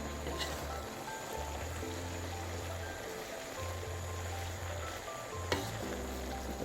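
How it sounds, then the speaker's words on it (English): Collard greens and smoked sausage being stirred in a big pot, a steady wet swishing and simmering hiss that continues throughout, with a low hum underneath and a single soft clink of the spoon against the pot. "You just stir it up. It'll take a while because it's a big pot."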